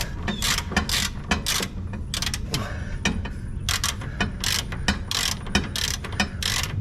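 Repeated bursts of a ratchet wrench clicking away on a hotshot truck, loud and close, with short rapid runs separated by brief pauses over a low mechanical rumble.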